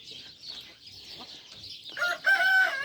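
A crossbred American rooster in a new chicken coop gives a loud, close crow near the end, after a stretch of softer clucking and fowl noises.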